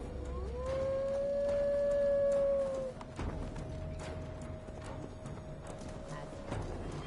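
Horse hooves clip-clop steadily through a forest in Gloucestershire in Assassin's Creed Valhalla, a continuous ride under a strong tonal musical swell and ambient game sound.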